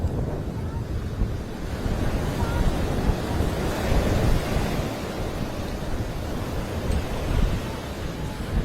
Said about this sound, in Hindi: समंदर में तेज लहरें उठ रही हैं।